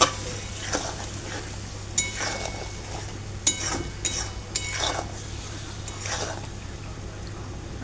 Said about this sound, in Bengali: চিনি দিয়ে এবার এই যে দেখো ভালো করে নেড়ে নেবো